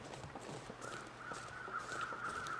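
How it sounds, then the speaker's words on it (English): Crows cawing somewhere ahead in the snowy wilderness of the survival game The Long Dark, faint, distant calls repeating over a quiet ambient background with soft crunching movement. "I hear crows."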